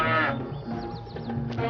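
A cow moos once in a drawn-out, low, harmonic call that fills the moment, close and fairly loud, with a few faint squeaky clicks toward the end and no one talking.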